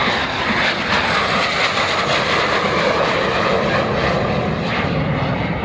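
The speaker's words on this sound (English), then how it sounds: "No original ME-262s are still airworthy." A reconstructed Messerschmitt Me 262 jet aircraft roars past overhead at an air show, producing a loud, continuous broadband engine rush that stays steady throughout without any voices.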